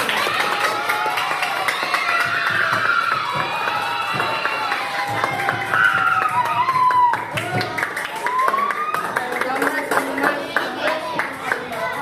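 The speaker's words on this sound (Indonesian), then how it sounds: "tepuk tangan untuk kita" Children in a classroom clap together in a burst of applause, with shouting and chatter mixed in, the sound rising and falling in waves.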